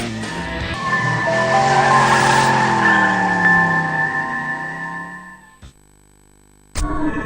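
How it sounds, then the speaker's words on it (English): Drift cars at a 2016 Super Drift Series round scream their tyres in one long, loud, wavering screech that cuts off abruptly, followed by a brief sharp burst near the end. "it would be the screams of tyres and cars that would warm the heart and get everybody excited"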